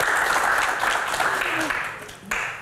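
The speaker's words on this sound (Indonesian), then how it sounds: "Tepuk tangan lebih meriah untuk Kang Maman." Audience applause fills a TV studio for a guest, a steady wash of clapping mixed with a voice over a loudspeaker, easing slightly before a brief swell near the end.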